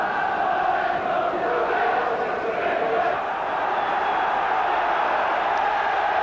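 A capacity crowd of 26,000 roars steadily inside Carrow Road, Norwich, for a Football League match between Norwich City and Liverpool, a dense unbroken wall of voices and chanting that holds at full volume throughout.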